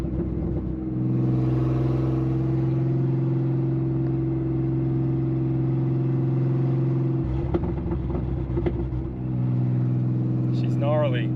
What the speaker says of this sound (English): Truck's still sounding good.